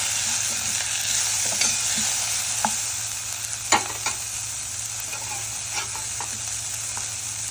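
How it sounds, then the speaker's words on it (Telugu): Curry leaves and onions frying with salt in a pan, an even close sizzle with a few stirring scrapes and soft crackles, no talking over it. "కరివేపాకు, ఆనియన్స్ బాగా ఫ్రై చేసుకోవాలి"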